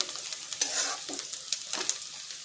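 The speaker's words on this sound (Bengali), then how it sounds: "পেঁয়াজটা একটু ভাজা হোক ততক্ষণ।" Onions fry in a pan for an Indian-style banana blossom or jackfruit curry, a quiet hissing sizzle punctuated by a few spatula scrapes and stirs, close but fairly soft, no one speaking.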